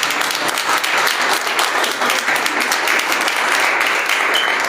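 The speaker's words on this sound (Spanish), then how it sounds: "Denle un aplauso al Rey bendito." A church congregation claps in loud, steady applause, dense and continuous with no pauses and no voices on top.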